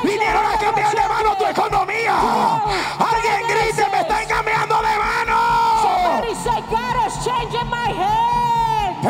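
A church congregation at a fasting-day service shouts and yells loudly and continuously, with a strong voice cutting through the crowd noise throughout.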